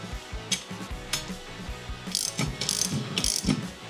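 Ratchet wrench with an 11mm socket tightening light mounting bolts on a Baja Designs LP6 Jeep headlight, giving close, loud bursts of rapid clicking in several short runs with brief pauses between them.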